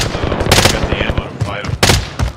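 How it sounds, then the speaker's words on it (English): Rapid bursts of video game gunfire, loud and close, cracking out in several clusters with short gaps between, and players talking over the shooting. "Somebody's shooting at me."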